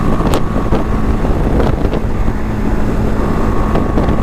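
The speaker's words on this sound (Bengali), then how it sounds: "বিরাট হাওয়া দিচ্ছে ভাই বাইক পুরো কাঁপিয়ে দিচ্ছে হাওয়ায়" Strong cyclone winds from Cyclone Remal roar steadily against a moving motorbike, a loud continuous buffeting rush with occasional gust bursts and no voices.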